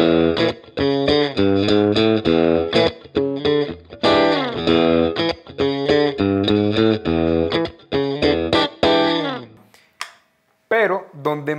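PRS SE Custom 24 Zebra Wood electric guitar on its bridge pickup in split mode, played as a run of bright, twangy chords and picked notes with choppy rhythmic strums and a few ringing stops.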